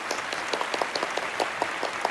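Light applause, a small group clapping steadily for about two seconds, moderately near, with no voices over it.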